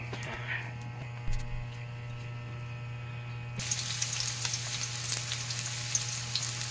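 Aromatics such as ginger and garlic hit a hot frying pan for sautéing, bursting into a loud, steady close sizzle midway after a quieter stretch with a low electrical hum underneath.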